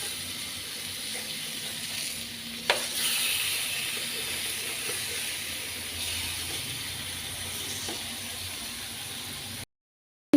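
Fish coated in green masala frying in a pan: a steady, soft sizzle and hiss throughout, close and even, with one small clatter partway through.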